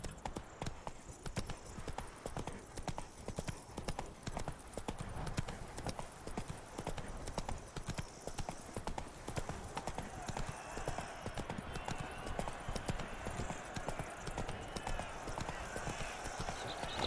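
The horse Roach galloping in The Witcher 3, a fast, continuous drumming of hoofbeats on the ground that carries on for the whole stretch at an even rhythm, with a voice in the game briefly speaking over it.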